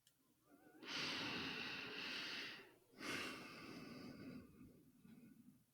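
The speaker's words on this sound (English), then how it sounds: "Sometimes people want to edit out the sounds of breathing" Two long, audible human breaths, a deep drawn-in breath followed by a slower exhale, each lasting about two seconds, close and soft with no talking.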